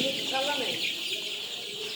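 Sonali chickens on a poultry farm give soft clucks and brief calls close by, over a steady hiss of background noise.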